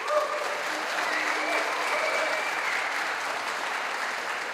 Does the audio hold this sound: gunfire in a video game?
no